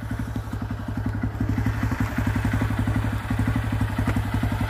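A mini truck fitted with a 150cc motorcycle engine idles close by, its small single-cylinder thumping in a steady, even rhythm with a light clatter throughout.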